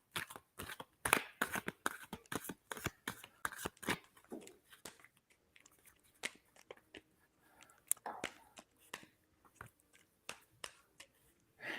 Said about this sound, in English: I'm going to shuffle the cards while we're doing this.